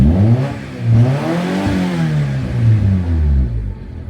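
A Honda Accord engine revs hard up to about 6,000 RPM, close and loud, with its pitch climbing and falling in several rising sweeps before settling back toward idle.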